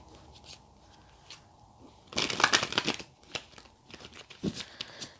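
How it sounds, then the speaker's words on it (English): Tarot cards are drawn out and handled close by, with soft crinkling, rustling and shuffling of card stock in irregular bursts, loudest in a brief flurry midway. "let's get your tarot cards out and see what comes through"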